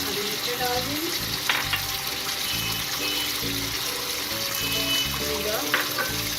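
Masala frying in a karahi, a loud continuous sizzle close by with scraping stirs and occasional metallic clinks of a spoon against the pan.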